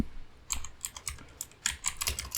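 Keys clatter on a computer keyboard in short, quick bursts of taps, close and fairly quiet, with brief pauses between runs.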